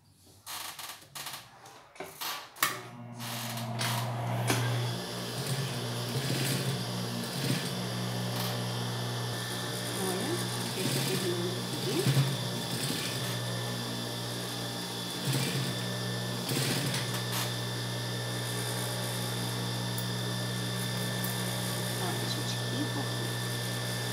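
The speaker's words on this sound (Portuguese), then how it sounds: "agora eu quero passar um pesponto aqui todinho, pra ficar mais bonitinho" A sewing machine topstitches along the ruffle of a children's denim skirt with a steady, moderately loud motor whir and needle patter running at an even pace after some opening clicks, with someone talking over it at times.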